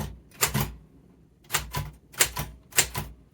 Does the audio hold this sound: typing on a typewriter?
yes